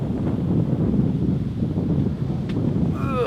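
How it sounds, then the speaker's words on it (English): Gusty wind at a lakeside rest stop rumbles against the microphone in a continuous low roar, rising and falling slightly, with a brief higher sound near the end. "It's a little windy out here"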